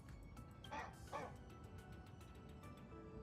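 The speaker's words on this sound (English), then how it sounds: "Righteous barking of a dog." A dog barking in the video game Honkai: Star Rail, two quick yips close together over a faint game soundtrack, fairly quiet.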